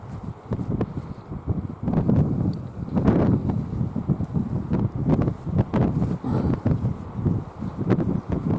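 Wind gusts across coastal dunes on the Northumberland coast, buffeting the microphone in uneven rumbling bursts with rustling and crunching underneath, loud and close throughout.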